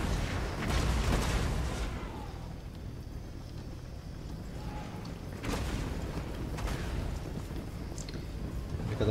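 Catapult artillery firing during a Total War: Warhammer 2 battle, dull booms rising out of a dense, steady rumble of battlefield noise, with no voices heard.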